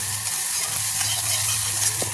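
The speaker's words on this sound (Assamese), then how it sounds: "তেল নায়েই অকণমান লাগি আছিলে তাতে মই পিঁয়াজটো ভাজি লৈছোঁ" Onion frying in a little oil gives a close, steady sizzling hiss over a few seconds, with a faint stirring sound near the end.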